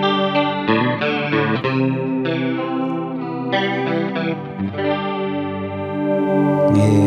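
Electric guitar played through an effects unit's chorus preset, with sustained, shimmering chords that ring on in a steady wash. It is close and moderately loud, with no talk.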